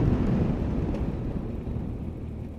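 A Kawasaki Versys 1000 LT Tourer motorcycle pulling in sixth gear at about 1,000 rpm, a low, steady engine rumble mixed with heavy wind noise, continuous without talk.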